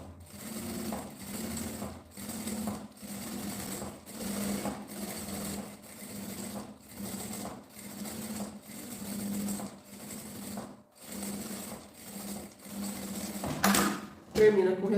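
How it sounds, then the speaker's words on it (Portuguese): A domestic sewing machine set to a 3.5 stitch length runs a seam around a small fabric phone pouch. Its rapid even needle chatter comes in bursts separated by brief stops, with a few clicks and clunks near the end. "começa com retrocesso e vamos passar a costurinha em toda a volta"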